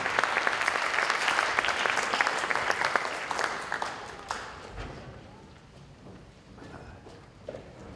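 Audience applause for jazz musicians at a school music association jazz night, dense clapping that thins and fades over the last few seconds, with scattered claps trailing off near the end.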